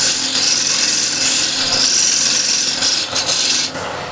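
A negative rake scraper cuts wood with a steady, continuous rasping scrape as shavings fly, loud and close for about three and a half seconds before easing off.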